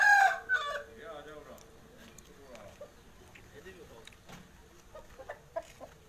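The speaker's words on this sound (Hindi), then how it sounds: "ये मियाँ वाली के मुर्गे हैं जी" A rooster crows loudly near the start, followed by quieter clucking and scattered bird calls over a low background murmur.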